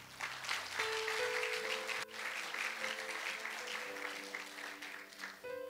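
Church congregation applauding for the Lord during a French-language sermon on praying by faith, a steady roomful of clapping with sustained organ or keyboard chords sounding beneath it throughout.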